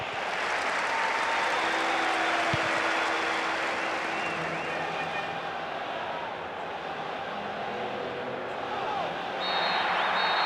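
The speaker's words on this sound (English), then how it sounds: "a huge roar from the crowd" A stadium crowd in the PES 2007 football video game on PS2 roars steadily and loudly throughout, a broad continuous wash of cheering with some voices heard under it.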